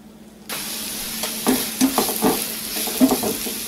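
Onions hit hot oil over high heat and are stirred in a pan for a Mexican beef chilli, a steady close sizzle starting abruptly with repeated scraping stir strokes throughout.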